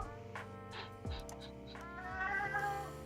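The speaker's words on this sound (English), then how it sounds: "Life is very hard when you're a cat." A cat meows several times indoors during a live four-player card game, short tonal calls close to the microphone, mixed in with people talking.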